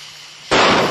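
A single sharp gunshot from a backup gun cracks out suddenly after a quiet moment, loud and close, then its noisy burst lingers briefly.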